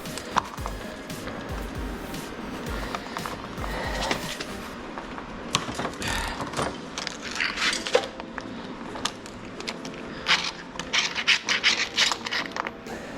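Socket wrench, 24 mm, working the nut off the wheel of a Husqvarna 430X AutoMower robotic mower: close metallic scraping, rubbing and ratcheting clicks in an uneven run, with no talking.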